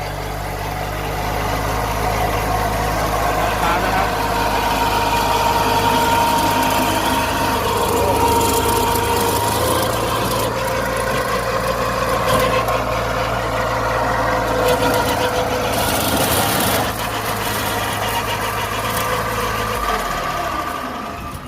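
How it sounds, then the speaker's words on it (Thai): An old Japanese 23 hp farm tractor runs steadily with a loud, continuous low engine drone throughout, fitted with a 1.8 m Y-blade flail mower shredding oil palm fronds in the field. "รถไถ23 แรงครับเก่าญี่ปุ่นนะครับ"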